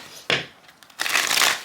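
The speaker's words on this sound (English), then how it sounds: "If you want to see the shuffle, this is as good as I can get" Tarot cards are shuffled on a mat, heard as two close bursts of riffling and crackling, a short one and then a longer sustained one, with no voice over them.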